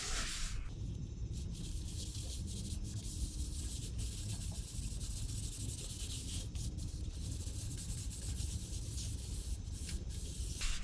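Steady broadband rubbing and hissing as sanding paste is applied and worked into a turned maple bowl, a continuous close friction sound with no talk.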